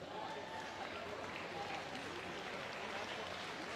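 An audience at a live gala event claps together in a sustained, even burst of applause lasting several seconds, with faint crowd murmur mixed in.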